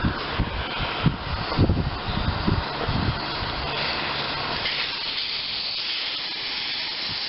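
Air hisses out of the tire valve stem on an old Ariens rototiller, a steady close rush of escaping air broken by a few knocks and clicks early on.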